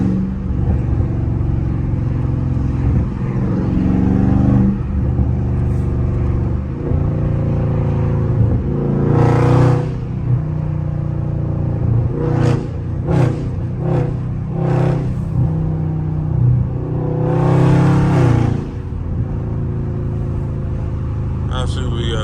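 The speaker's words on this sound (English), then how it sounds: "Y'all hear the pops though." Dodge Charger 392 V8 rumbling steadily in traffic, with several sharp exhaust pops and crackles bursting out in quick clusters over the low engine drone, while someone talks nearby.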